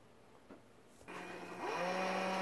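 An RCBS ChargeMaster 1500 powder dispenser fitted with an orifice restrictor runs a steady motorized whir that starts abruptly and rises in pitch and loudness, close and alone with no talking.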